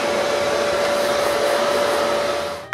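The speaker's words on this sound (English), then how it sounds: "The last thing to do before applying the finish is to vacuum all the dust." Vacuum cleaner pulling sanding dust off wooden cupcake towers in a woodshop, a steady loud whine with a constant tone running alone and close, cutting off abruptly at the end.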